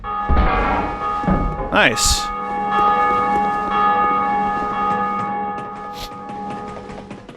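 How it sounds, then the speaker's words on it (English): In Dark Souls 2, a large bell tower bell tolls loudly with one deep strike. Its rich ringing tone sustains and slowly fades, and a brief spoken word comes near the start. "Yeah, that's the bell that we just rang"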